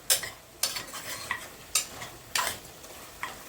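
Mutton curry stirred in a pot, with five scraping strokes of a spoon against the metal at an irregular pace over a soft sizzle, close and fairly quiet.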